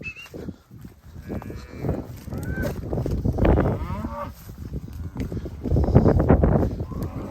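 Cattle low and moo repeatedly at close range while a herding dog drives them along on a farm, the calls overlapping with shuffling movement and faint human calls.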